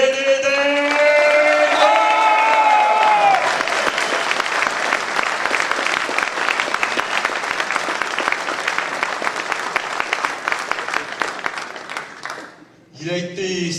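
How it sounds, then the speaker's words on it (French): Sustained applause from a crowd at a table tennis match, greeting a player's introduction; loud, dense clapping after a brief voice at the start, fading slightly toward the end. "Un tonnerre d'applaudissements, s'il vous plaît, pour Bénédicte."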